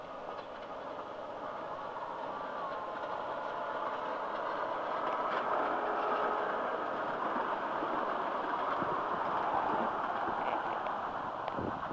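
A train including a BL2 branch line car rolls steadily past at close range, a continuous rumble and rattle of rail cars holding at an even loudness throughout with no one speaking.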